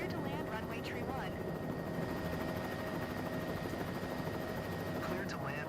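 A helicopter in flight, its engine and rotor drone a constant, dense roar throughout, with faint radio-like voice chatter and squeaks rising briefly near the start and end.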